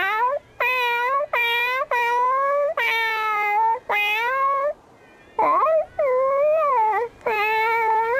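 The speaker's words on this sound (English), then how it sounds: "These fucking stock cat noises, they're fucking annoying" Stock cat meows from the video game Bravely Second, a run of repeated drawn-out mewing calls, loud and close, with short gaps between them and one shorter, wavering yowl midway, heard alone with no talking.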